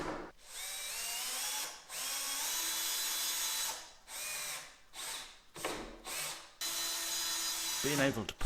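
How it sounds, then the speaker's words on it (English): A cordless power drill drives screws into wardrobe panels during an on-site fitted wardrobe build, several whining bursts of a few seconds each separated by short pauses, close and clear. "Being able to pop a screw in to act as an additional clamp is superb."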